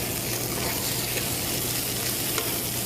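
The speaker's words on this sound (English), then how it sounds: "now we're going to stir the rice" Rice frying in a pan is stirred in healthy fried rice cooking, giving a steady close sizzle with scraping stir sounds mixed in, continuous and fairly loud, no talking.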